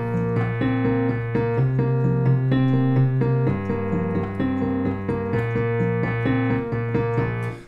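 Piano playing a song, steady repeated chords with a simple melody on top, clear and close, alone without any voice for the whole stretch.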